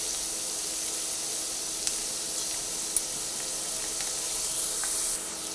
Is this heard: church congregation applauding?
no